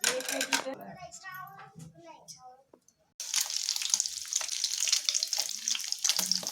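An egg fries in a pan, a bright hissing sizzle that starts abruptly after a brief silence and keeps going steadily, following a stretch of speech at the start.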